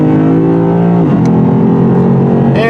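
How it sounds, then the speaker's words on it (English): A Lexus RC-F V8 exhaust roars loudly and close under throttle, its deep engine tone rising and then dipping briefly before climbing again. "when you hit the throttle on this RC V8 version, you get a healthier sounding exhaust system"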